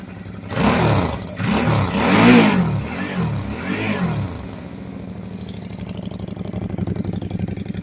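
A 2008 Suzuki V-Strom DL650 motorcycle fitted with a modified, freer-flowing exhaust is revved several times in quick succession, each throttle blip rising and falling loudly and close by, before the engine settles back to a steady idle.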